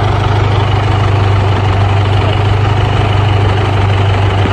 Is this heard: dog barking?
no